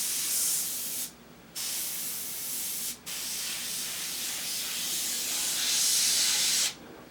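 An airbrush sprays out a leftover drop of reducer in steady bursts of fine hiss, stopping briefly twice, close to the microphone, with no talk.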